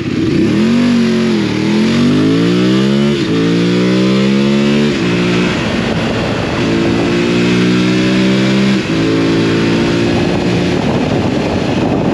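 A loud BMW F 850 GS Adventure 2022 motorcycle engine revs up through several gears on a test ride, pitch climbing and dropping with each shift, close and continuous.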